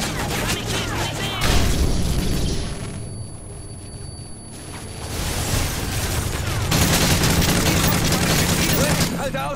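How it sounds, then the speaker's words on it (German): Video game gunfire from a shop downstairs: dense, rapid bursts of shots and booms, loud at first, easing off in the middle before heavy firing resumes, with voices talking over it. "Schüsse im Laden unten."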